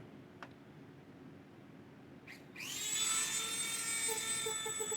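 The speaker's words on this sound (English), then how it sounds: "I'm just taking the Dremel and I'm sanding down all of the sharp edges." A high-pitched Dremel rotary tool spins up after a quiet stretch and then whines steadily as it sands down sharp edges on an alien mask, close by with faint background hum.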